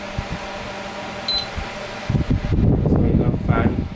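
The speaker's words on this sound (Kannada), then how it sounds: "ಸೊ ಈಗ ಫ್ಯಾನ್ ರೊಟೇಟ್ ಆಗೋಕ್ಕೆ ಸ್ಟಾರ್ಟ್ ಆಯಿತು." A GeekAire 8-inch fan starts rotating after a faint beep, its airy whoosh and hum swelling from quiet to steady with someone talking over it.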